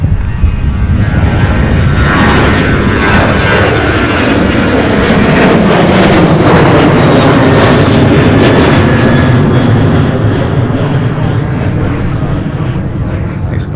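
A Southwest airliner passing at SDF airport, a loud continuous jet roar that swells and sweeps in pitch as it goes by, filling the whole span without a break.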